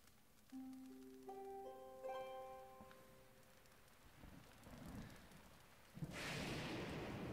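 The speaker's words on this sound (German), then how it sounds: "Natürlich gewittert das wieder." A thunderstorm with rain rolls in during Zelda: Breath of the Wild, first behind soft plinking musical tones, then a dense hiss of downpour surges up at the end. Faint and distant.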